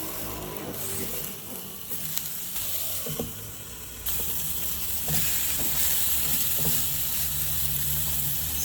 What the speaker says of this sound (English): I have it on the highest right now because I kind of like to sear the outside